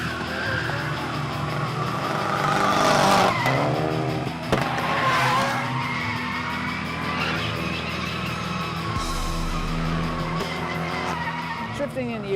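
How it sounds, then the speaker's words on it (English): A Mitsubishi Lancer Evolution 7 rally car drifts with a loud, revving engine and long screeching tire squeals that rise and fall in waves, close and continuous with no voices. "We're here today demonstrating the rally car Evolution 7"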